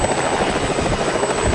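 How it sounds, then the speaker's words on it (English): A helicopter's rotor drones loud and close in a steady, continuous pulsing wash, with no voices over it. "He claims to reach 6 million followers with his satellite TV network, numerous publications, private jet, and personal helicopter"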